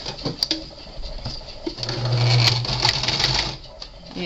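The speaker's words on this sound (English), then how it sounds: "Something else I've not done is sew with quilting thread." A sewing machine stitches with quilting thread for a paper-craft mini album, running in a quick mechanical patter that grows into a steadier, louder whir in the middle. The sound is close and continuous, with no speech over it.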